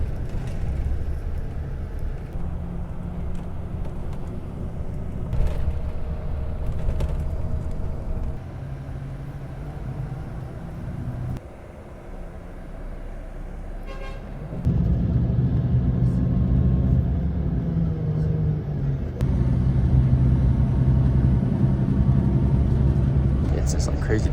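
A long-distance bus travelling from Lima to Cusco in Peru rumbles with a steady, low engine drone and road noise, shifting in intensity, while a person talks over it.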